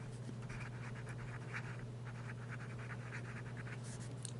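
Jinhao fountain pen nib scratching lightly across paper as it lays down ink, a soft irregular series of short strokes over a steady low background hum, close and quiet.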